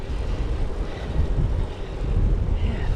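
Wind blows steadily outdoors on a cool morning, a constant low rumble buffeting the microphone with no clear pauses.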